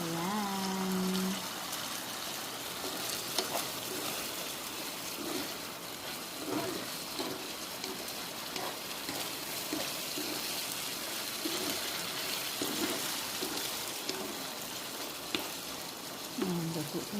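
Chicken gizzards in oyster sauce fry in a pan with a steady, bubbly sizzle and occasional stirring clatters, close and moderately loud, with a brief tonal sound near the start.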